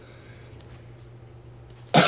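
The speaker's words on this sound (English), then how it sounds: "My cough is really terrible right now" A single loud, sharp cough bursts out at the very end after near silence.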